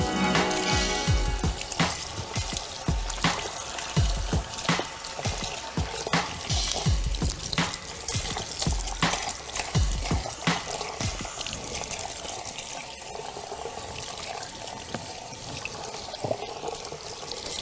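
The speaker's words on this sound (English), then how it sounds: "So we're having a really good rinse through." Water runs and splashes steadily while hair colour is rinsed out at a salon basin, a close, continuous trickle with irregular spatters that grows softer toward the end.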